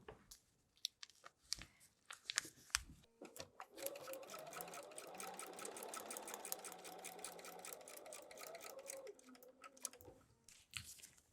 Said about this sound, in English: So let's pin, and we'll sew one more time.